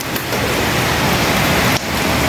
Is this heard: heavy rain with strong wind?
yes